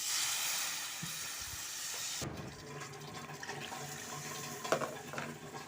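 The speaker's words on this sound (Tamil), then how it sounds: "இப்போ நம்ம கரைச்சி வச்ச புளியை இதோட சேர்த்துடலாம்" Tamarind water is poured into a coconut milk fish curry, a steady close splashing pour of liquid that gives way to quieter bubbling and soft liquid movement.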